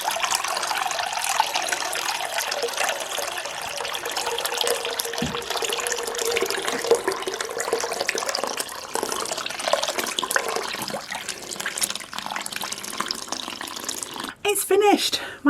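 Water pours steadily from a tap into a sink to soak a hand-knitted hat, a continuous close hiss and splash that changes partway through, with a short burst of talk at the very end.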